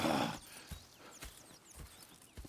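A horse whinnies briefly, followed by several slow, distinct hoof clops on firm ground, in the video game Red Dead Redemption 2.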